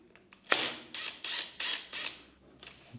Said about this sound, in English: I'm gonna undo this bolt.